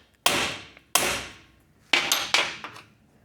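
Four sharp metallic hammer strikes on a socket driven onto a snap ring ring out close and loud, spaced unevenly with short decaying tails.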